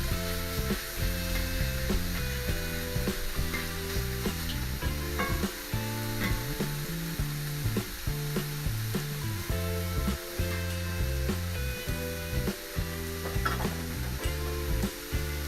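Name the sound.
diced bacon and fries sizzling on a hot steel plancha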